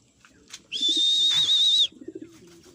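A racing pigeon gives one long, loud, close cooing call lasting about a second, with softer bird sounds and faint rustling before and after.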